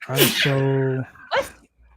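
A single loud sneeze bursts out close by, followed by a brief breathy sniff or exhale, then near silence.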